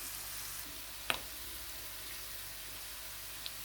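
Mushrooms frying with salt in a pan give a steady, quiet sizzle that runs throughout, broken by a sharp clink at about one second and a faint tap near the end.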